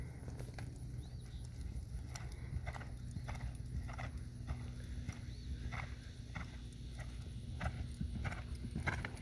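A horse cantering in a riding session while its trainer works on bend, stop and turn, its hooves beating a steady, repeated clip-clop close by over a constant low hum, with a brief whinny-like sound and no talk.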